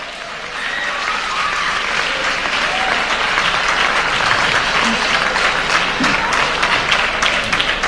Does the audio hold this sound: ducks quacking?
no